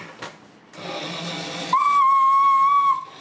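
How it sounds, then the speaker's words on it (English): A hand-blown whistle for a vintage Sonicon toy bus sounds a steady, loud, pure tone for about a second after a brief hissy burst of breath and rustling. "As long as you blow the whistle,"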